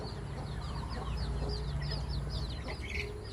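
Rhode Island Red chickens clucking inside a coop, several birds giving overlapping short clucks and higher squawks at close range over a steady low background hum, with no speech.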